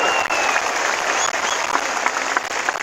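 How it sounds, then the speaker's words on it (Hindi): Crowd applause at a mass political gathering, loud and dense clapping from many hands that carries on without a break, with some shouting voices mixed in. "थोड़ा ताली मार दो भाई,"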